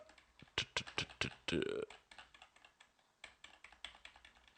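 Someone types on a computer keyboard close up, with irregular bursts of crisp key clicks, a short pause and a heavier clattering press, then more scattered taps in a quiet room.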